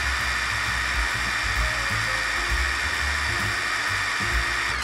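A Yasuka YIW 500CB cordless brushless impact wrench spins at full speed in reverse, giving a steady, loud, high-pitched motor whine that holds without a break for the whole stretch.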